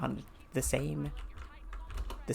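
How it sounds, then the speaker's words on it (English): Mechanical keyboard keys clacking in quick, scattered bursts beneath someone talking close to the microphone. "Sorry for the annoying like clacking in the background. I'm using a mechanical keyboard"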